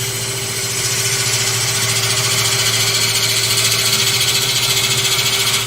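A wood lathe spins as a gouge turns a wooden vase, giving a steady, close, continuous whir with a constant motor hum and an even cutting hiss throughout.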